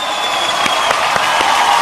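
Loud, dense applause from a studio audience on a Kapil Sharma comedy show, sustained and close throughout with a few sharper claps standing out.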